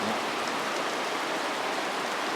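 Heavy rain pours down over a village, a dense, unbroken roar of falling water that stays steady and loud throughout.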